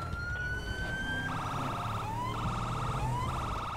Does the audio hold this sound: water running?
no